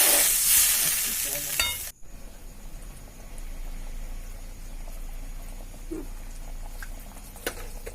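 Water poured into a pan of sizzling, well-fried spice paste for a potato and taro-leaf fritter curry gives a loud hissing burst that stops sharply, leaving a quieter steady simmer with faint stirring scrapes.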